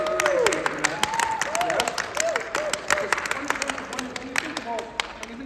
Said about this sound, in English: let's give this young lady a round of applause for her achievement in writing this book.